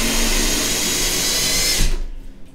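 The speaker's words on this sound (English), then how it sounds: "I'm gonna put my screw in and I can just screw right in" A power drill drives a SPAC screw into a wooden wall stud while a coat hook is mounted, a loud steady whine running for almost two seconds before it cuts off, leaving quiet room tone.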